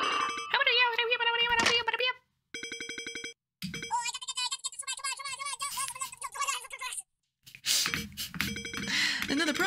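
A telephone ringtone plays loud and close in repeated melodic bursts with short gaps between them, while a voice is heard over parts of it.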